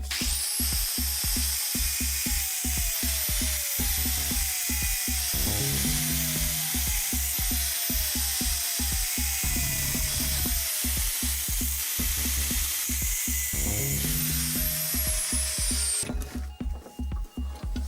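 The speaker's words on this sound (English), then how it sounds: "Clamp the key in a vise and use the grinder to form a thread on the ground edge." An angle grinder cuts a thread into the ground edge of a key clamped in a vise, a loud, close, continuous high whine with rapid rhythmic chatter as the disc bites into the metal, stopping near the end.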